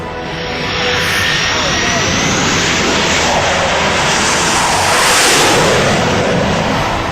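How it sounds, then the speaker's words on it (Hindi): An Indian Air Force fighter jet lands on a 3-kilometre expressway airstrip in Uttar Pradesh. Its broad, loud engine roar swells and holds steady throughout, peaking near the end, while a voice talks over it. "हिंदुस्तान के सबसे ताकतवर लड़ाकू विमानों की लैंडिंग और टेक ऑफ के लिए 3 किलोमीटर लंबी ये खास हवाई पट्टी बनाई गई है।"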